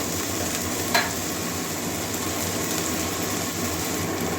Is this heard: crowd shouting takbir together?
no